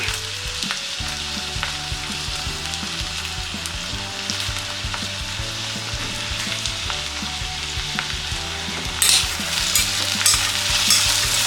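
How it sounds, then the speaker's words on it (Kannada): Ten or so dried red chillies and peeled garlic cloves sizzle steadily in a hot pan, with scraping stirs breaking through the constant frying hiss and a brighter crackle toward the end. "ಇದನ್ನು ಒಂದು 30 ಸೆಕೆಂಡ್ ಆಗುವಷ್ಟು ಈ ರೀತಿ ಹುರ್ಕೊಳ್ಳೋಣ"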